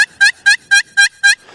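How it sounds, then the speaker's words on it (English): Wild turkey gobbling loudly and close, six rapid rattling bursts in an even rhythm, alone with no talk. "And it'll get turkeys to gobble."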